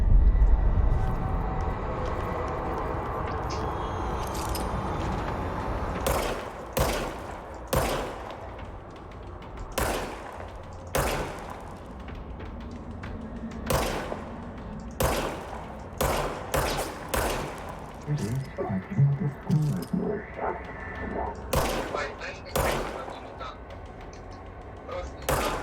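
Gunshots ring out in the video game Control as a series of sharp, loud cracks, first spaced apart and then in quicker bursts, with some low rumbling between them.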